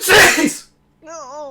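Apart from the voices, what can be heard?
sneeze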